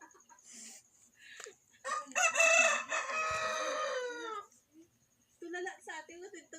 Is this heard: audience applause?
no